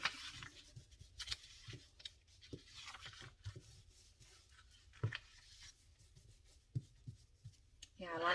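Pen or marker scratching and rubbing across an old-style paper journal page, adding color in short uneven strokes, close and faint, with occasional soft paper handling and brief quiet speech.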